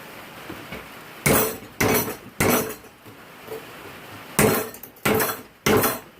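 A small water-quenched steel skinner blade is struck with a hammer in an attempt to break it, giving six sharp metallic blows in uneven pairs, loud and close with no talk.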